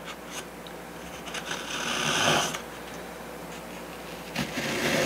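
A saw cutting out a balsa model aircraft wing part for a Sig Kougar build, with a rasping, buzzing stroke that swells midway and picks up again near the end, close and without talk.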